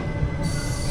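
A 06061 Summer Special Express train pulls into Manamadurai Junction with a steady close rail rumble and a thin wheel squeal, heard for under a second with no voices.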